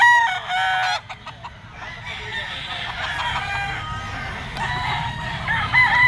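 Yellow-legged Picom gamefowl stags of Golden Boy bloodline at a Sunday rooster market crow repeatedly and cluck, several birds calling close by with no talking.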